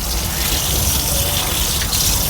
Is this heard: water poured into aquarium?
yes